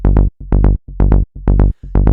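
Short filtered synth blips pulse rhythmically over a rolling, bouncy bass line, looping in a tight groove, loud and upfront with no talking.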